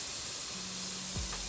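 Shrimp sizzling in a hot pan, a steady, close hiss with no pauses and no voices.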